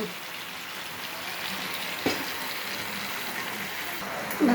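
Malabar spinach being stirred into cooked vegetables hisses and sizzles steadily in the pan, with a soft scrape and a louder clatter near the end.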